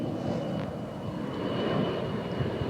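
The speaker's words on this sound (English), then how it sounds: "Get the aeroplane." A steady, rumbling airplane engine drones overhead for a few seconds, with no voices.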